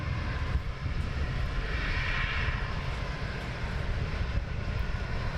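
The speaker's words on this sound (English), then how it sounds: "Oh, it's a Gulfstream." A Gulfstream business jet at London Luton Airport gives off a steady, loud engine roar with a broad rushing hiss that holds constant throughout, heard from nearby.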